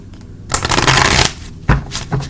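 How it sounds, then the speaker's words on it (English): A deck of cards is shuffled close up in a couple of quick riffling bursts, a dense papery flutter followed by shorter ruffles and taps as the cards settle. "I'm going to go ahead and shuffle."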